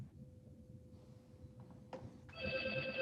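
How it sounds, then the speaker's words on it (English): A telephone rings during a county commission meeting, a faint tone at first, then a louder electronic ringing near the end over quiet room noise. "Somebody's having a phone going."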